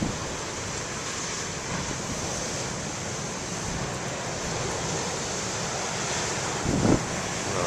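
Ocean waves breaking on shore under east and northeast winds, a continuous broad roar of surf with wind buffeting the microphone and a slight swell near the end.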